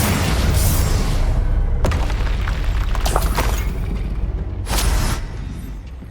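Bombarda explosion spells blasting in Hogwarts Legacy, two loud booming bursts with crackling debris and a sustained rumbling roar between them, no voices.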